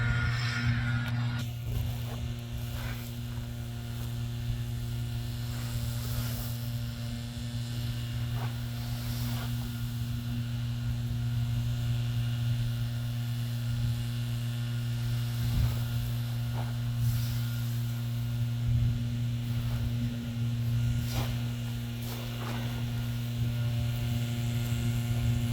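A leaf blower runs some distance away while fallen leaves are cleared from a yard, giving an even, unbroken drone that holds at a moderate level for the whole stretch with no talk.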